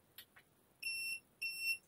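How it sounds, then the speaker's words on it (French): Two electronic beeps from the ESC of an Arrma Senton RC car during setup, each a clear high steady tone lasting about a third of a second, preceded by a couple of faint clicks. "les 2 bips, c'est parce que c'est le réglage ESC"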